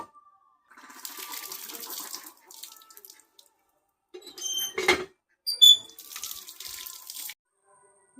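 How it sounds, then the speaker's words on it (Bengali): Tamarind pods and leaves washed under running water, with intermittent tap flow, splashing and dripping in short bursts separated by quiet gaps, close by. "ভালো করে আমি ধুয়ে নেব।"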